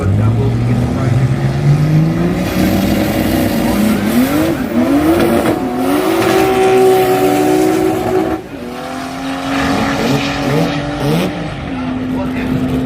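A race car at a drag racing event in Brisbane roars loudly through rising engine pitch sweeps, with the engine note shifting and another engine tone joining midway, while a commentator talks over it.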